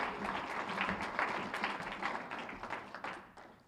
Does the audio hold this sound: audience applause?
yes